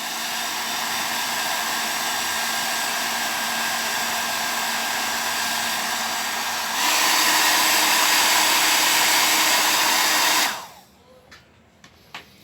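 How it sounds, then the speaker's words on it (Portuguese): A hair dryer blows steadily and loudly nearby on a soft plastic toy car, its pitch stepping up partway through, then it switches off, leaving faint clicks and handling noise. "eu trabalhando com o secador aqui, porque o plástico desses carros são moles"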